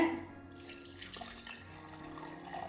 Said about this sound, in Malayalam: നമ്മൾ ഇതിൽ വെള്ളം ഒഴിക്കുകയാണ്